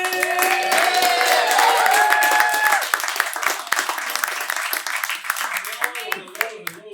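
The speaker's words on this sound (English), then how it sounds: "get the round of applause going for my man, AJ Faji" Comedy club audience bursts into loud, sustained applause with dense clapping and cheers, the wash fading slightly after a few seconds while a host's voice rises over it.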